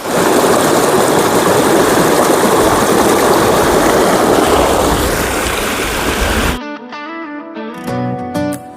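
A waterfall in a U-shaped gorge at the Ajanta Caves roars steadily and loudly for several seconds, then cuts off abruptly as music begins.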